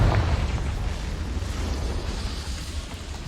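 Confringo fire spell blast in Hogwarts Legacy: a dense roaring burst that starts loud and slowly fades into a rumbling wash of noise, with no clear separate hits.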